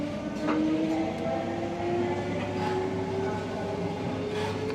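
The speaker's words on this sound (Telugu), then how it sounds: "మన ట్రైన్ తప్ప అన్ని ట్రైన్లు వస్తున్నాయి" A train rolls through a railway station, a loud continuous rumble with steady droning tones and faint wheel clatter filling the whole stretch.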